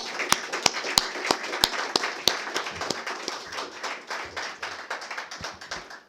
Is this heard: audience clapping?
yes